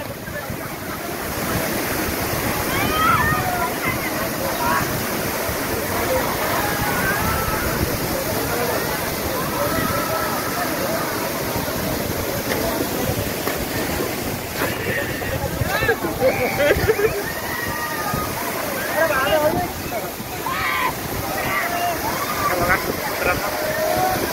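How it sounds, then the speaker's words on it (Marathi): Dharkhora Waterfall in Chikhaldara, Amravati, running high, roars steadily and loudly, rushing water filling the air while a person talks over it. "आपण धबधब्याजवळ पोहोचलेला आहे."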